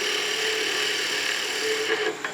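A skew chisel makes a planing cut on wood spinning on a lathe, a steady close hissing shave with the lathe's hum underneath, ending in a couple of faint scrapes.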